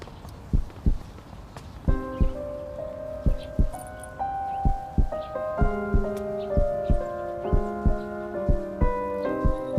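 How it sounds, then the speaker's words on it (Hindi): Rapid heartbeat thumps from a Chinese drama scene, a steady run of soft low pulses that quickens, set under sustained musical tones with no talking. "धड़कन इतनी तेज क्यों चल रही है?"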